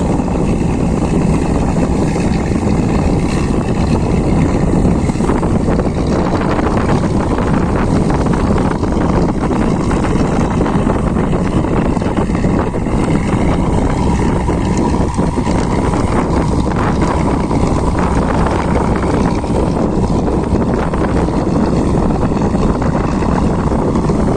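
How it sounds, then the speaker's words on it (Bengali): A boat moving past a boat terminal, heard as a loud, steady low rumble of engine and rushing water mixed with heavy wind buffeting, continuous and close. "এরপরে বোট টার্মিনালের পাশ দিয়ে চলে যাচ্ছে দেখতে খুবই সুন্দর"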